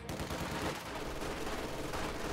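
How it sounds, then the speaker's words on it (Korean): Dense, continuous machine gun fire from a Company of Heroes 2 battle, loud overlapping bursts with no pauses throughout. "총소리 잘 들리시죠?"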